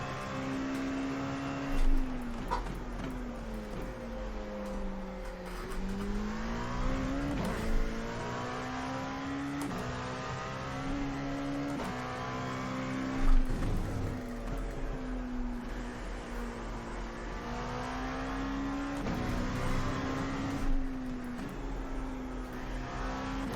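Simulated LMP2 prototype race car engine in iRacing at the Red Bull Ring, a loud steady buzzing drone that climbs and drops in pitch through repeated revs and gear shifts, with brief thumps between changes.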